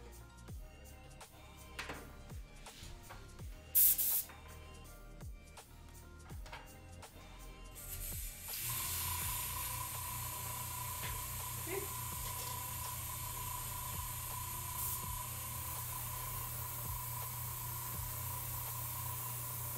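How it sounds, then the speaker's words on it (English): Airbrush or spray gun spraying paint onto a resin garage kit figure, a steady broadband hiss that starts about eight seconds in and holds to the end, preceded by quieter handling sounds and a brief louder burst. "It's already pretty nice, so I'm actually gonna spray that and see."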